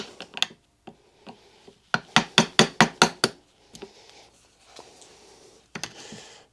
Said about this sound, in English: Probably is easier to use the hammer, because it's you got more control.